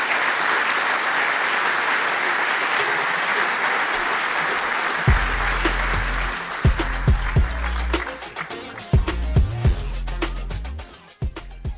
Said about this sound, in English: A very warm round of applause, please, for Robert Jan Smits.